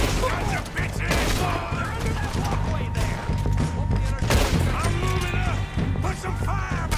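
Rapid bursts of gunfire in Red Dead Redemption 2 crack and clatter during a chaotic shootout with O'Driscoll gang members, loud and close over a thick mix of clashing impacts and game sounds.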